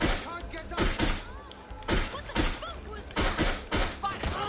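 Pistol gunfire in the shooter video game Watch Dogs Legion cracks out in rapid clustered bursts of sharp, loud shots with brief pauses between, and a player's voice talks over the fight.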